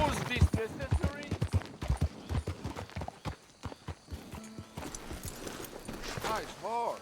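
Horse hooves clip-clop in steady rhythm in Red Dead Redemption 2, a close series of distinct hoofbeats with voices talking over them and a whinny-like sound near the end.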